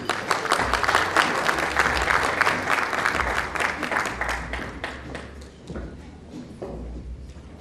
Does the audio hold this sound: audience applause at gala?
yes